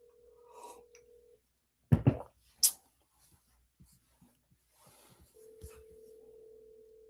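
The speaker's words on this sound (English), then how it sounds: "I'm gonna try and call Nader here" A telephone call is dialed, with brief steady tones at the start and end framing a few sharp clicks and knocks from handling the phone, close and fairly quiet.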